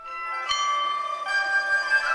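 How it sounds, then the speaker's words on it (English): Full-scale replicas of ancient Chinese chime bells, struck by musicians at the Hubei Provincial Museum in Wuhan, ring with sustained metallic tones; one strike just after the start and another later layer new tones over the lingering resonance. "Here, musicians are playing on full-scale replicas of the bells."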